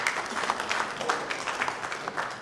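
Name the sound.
applause for Engineer Magnus Kwashi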